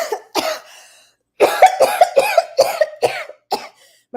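A person coughs in a series of harsh, close bursts, with two quick coughs, a pause, then a rapid run of about six more in an irregular rhythm, with no talking.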